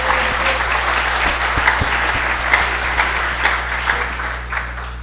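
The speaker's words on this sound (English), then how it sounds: "a round of applause for Hope." An audience at a Saturday AAUP gathering claps steadily for several seconds, a dense, even round of applause with a low steady hum underneath.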